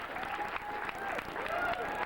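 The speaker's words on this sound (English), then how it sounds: "And as the crowd applauds Efren and, of course, Jeff" A crowd applauds at the 1995 PBT World 8-ball billiards final, a faint, dense patter of clapping in a hall that lasts the whole brief moment, with a voice faintly audible.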